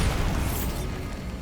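A Bombarda blasting spell detonates in Hogwarts Legacy, a dense, rumbling blast that fills the whole moment and slowly fades as its roar settles.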